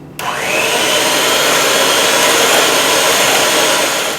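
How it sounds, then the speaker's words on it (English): Handheld electric mixer beating pumpkin pie filling in a bowl, switching on abruptly and then whirring loudly and steadily at close range with no break. "I'm just going to take a handheld mixer. We're going to beat this together until fully incorporated."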